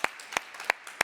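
Four single claps arrive at an even, slow rhythm against near silence. They sound more like one pair of hands than a crowd, and the sound stops after about a second.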